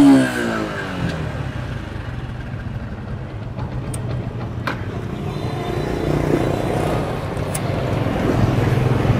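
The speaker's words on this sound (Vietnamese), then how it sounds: "Rồi bây giờ mình sẽ test tiếng máy cho anh em nghe luôn ha." A Honda Dream motorcycle engine idles steadily with a continuous low rumble, swelling slightly louder toward the end, close by with faint background noise.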